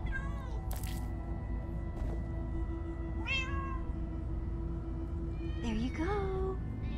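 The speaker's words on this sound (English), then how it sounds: "All right, kitty, kitty, kitty." Cats meowing in the video game Minecraft Story Mode, a few separate rising meows spread over a steady low background hum, fairly faint, with a voice speaking over them.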